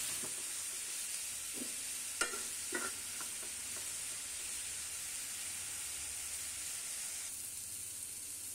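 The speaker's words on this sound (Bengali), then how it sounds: "আমরা পেঁয়াজটা নেড়ে নিচ্ছি চুলার উপরে সুন্দরভাবে" Onions frying gently in a pan on a stovetop over low heat give a soft, steady sizzle, broken by a few light spoon taps and scrapes early on.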